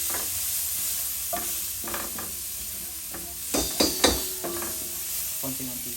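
Onion hitting hot oil for tofu sisig sizzles steadily up close, broken by sharp stirring clatters and a few louder bursts midway.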